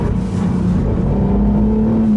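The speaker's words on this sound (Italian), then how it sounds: "Agli alti regimi ha un sound meraviglioso, è in grado di raggiungere i 7500 giri" A Honda NSX hybrid's twin-turbo V6 revs high and loud, a steady droning tone rising slightly in pitch over a couple of seconds.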